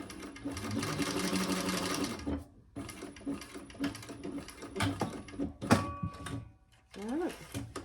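A sewing machine stitches cork fabric for a mini box tote, running in a loud steady burst for about two seconds, then in shorter stop-start runs, with talking mixed in between the stitching.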